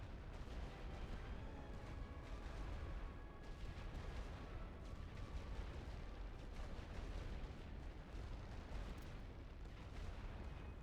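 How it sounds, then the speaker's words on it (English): Sustained artillery barrage in the World War I strategy game The Great War: Western Front, with dense overlapping booms and rumbling blasts rolling continuously and loudly throughout, no pauses between volleys. "Prep for barrage. And barrage there."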